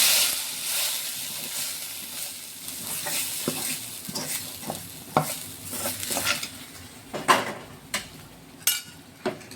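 Chickpeas go into a frying onion-tomato masala for channa kurma and get stirred in a pan, with an oily sizzle under repeated scraping strokes and sharp utensil knocks against the metal, close and fairly clear.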